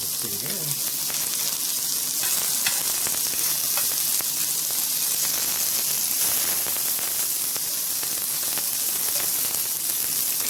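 Sausages sizzling and frying in a pan for a big breakfast, with a steady bright crackle and spitting that runs the whole way through, close and fairly loud, alongside a few faint scrapes.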